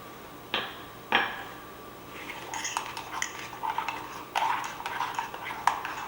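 A tablespoon clinks against a cup as brown sugar goes into Starbucks pumpkin spice coffee, with two sharp taps and then a run of quick scraping and stirring clinks up close.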